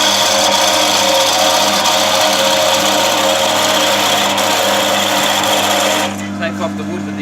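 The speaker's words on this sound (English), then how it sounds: "take off the wood with the roughing gouge and not get a nice round edge on it" A wood lathe spins a ball blank while a roughing gouge cuts it, making a loud, steady motor whine with a rough scraping texture. The sound runs continuously, then drops off sharply near the end.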